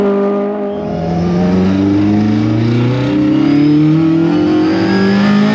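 A Mk2 Ford Escort van fitted with an ST170 engine on individual throttle bodies revs loudly and close by, its note rising and holding in a strong sustained climb with no talk.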